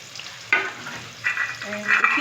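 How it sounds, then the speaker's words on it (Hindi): Onions sizzle in leftover frying oil from kofta curry, a steady crackling hiss with a few louder stirring bursts, close and moderately loud with no talking. "इसी को भूनना है, इतना भूने कि प्याज गोल्डन हो जाए।"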